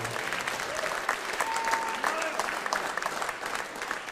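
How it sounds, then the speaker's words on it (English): Steady applause from a crowd at a middle school jazz concert, continuous clapping throughout with a few faint tonal whistles or feedback tones drifting above. "Give them a round of applause for all their hard work."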